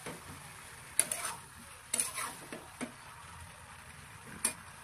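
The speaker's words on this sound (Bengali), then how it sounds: "এখন আমি এর মধ্যে 1 বাটির মতো উষ্ণ গরম জল দেবো। এইভাবে বেশ নাড়িয়ে নাড়িয়ে কষিয়ে নিতে হবে।" Young jackfruit and potato curry with added warm water is stirred in a pan, a spoon clinking and scraping against the metal several times over a low, steady sizzle.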